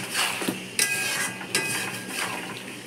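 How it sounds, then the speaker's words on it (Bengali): Chili chicken with soy sauce being stirred in a pan, a utensil scraping and clinking against the metal in a few distinct strokes, close by with no talking. "ভালো করে নেড়ে নেবো"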